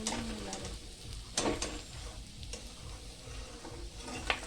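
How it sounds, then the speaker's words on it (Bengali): Fish sizzling in hot oil in a home kitchen as it finishes frying and is lifted out, a steady close crackle with a few sharper spattering bursts and utensil scrapes. "মাছ ভাজা হয়ে গেছে, তুলে নিচ্ছি।"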